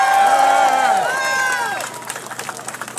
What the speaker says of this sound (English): let's have a big round of applause for all of us